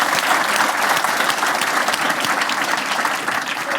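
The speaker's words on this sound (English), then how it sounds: "A big round of applause for him." An audience at a conference stage event applauds a journalist guest, a loud, full round of clapping from many hands, steady and close, easing slightly toward the end with no speech over it.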